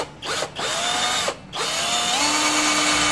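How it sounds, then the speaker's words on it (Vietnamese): A handheld power drill whines into the plastic headlight housing of a Honda Winner motorcycle, its motor pitch dropping under load, pausing briefly twice before spinning up again and holding a steady drone. "Đó, khoan vào đây."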